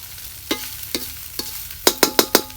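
A metal spatula clanks against a wok in sharp taps, three spaced strikes then four quicker ones, over a faint sizzle, while stir-frying fried rice with soy sauce.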